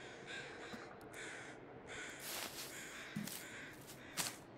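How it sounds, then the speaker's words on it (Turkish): Ptarmigan calls ring out in a survival video game, several harsh, caw-like cries spaced across a quiet, steady ambient background, fairly faint and distant. "Ptarmigan sesi duyuyorum."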